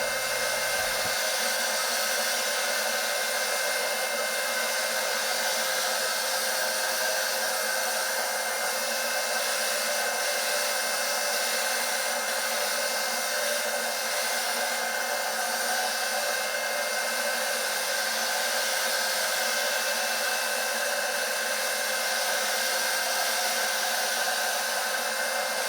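A Bosch PFS 3000 electric paint sprayer runs continuously, applying masonry paint to coarse, porous cement render; a loud, steady motorised buzz and hiss holds for the whole stretch, close by and without talk.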